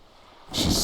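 Wind gusts against a boat's sail in the detective video game Disco Elysium: quiet hiss at first, then a sudden loud broadband rush of flapping, breathy wind that stays steady to the end.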